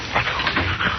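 A dog in a radio drama whimpers in a quick series of short, close, high yips that rise and fall twice within a second, heard alone without talk.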